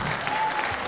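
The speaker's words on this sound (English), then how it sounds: "That's a clap." An audience claps steadily through a brief burst of applause at a salute to women truck drivers, with dense, even hand-clapping and no voices over it.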